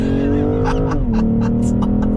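A 2021 BMW M440i coupe in manual shift mode pulls away from a dead stop, its engine note steady and loud, dipping briefly as it shifts, with no talk over it.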